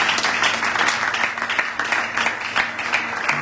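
Audience at a church youth conference applauding, a dense burst of clapping filling the hall, loud and steady for a few seconds.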